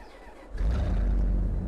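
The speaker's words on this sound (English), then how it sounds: "Listen to this engine." Engine of an old loading wagon tractor in Farming Simulator 22 starts up and settles into a steady, loud, low rumble at close range, with no talking over it.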